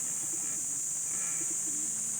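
Soft, low racing pigeon coos repeating at a distance over a constant high-pitched background hiss.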